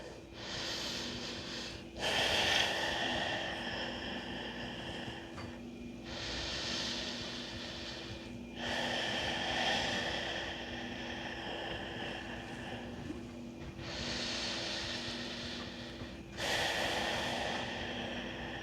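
Slow, steady breaths during a yoga forward fold with the head dropped, long inhales and exhales alternating in a calm rhythm, close and clear over a faint steady background hum.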